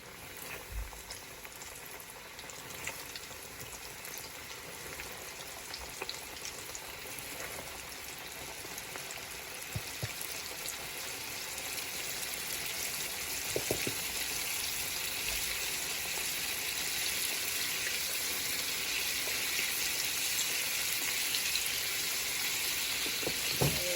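Chicken wings fry in a deep pan of hot oil with a steady, dense sizzle and bubbling that keeps on and grows slightly louder over time, with no talking.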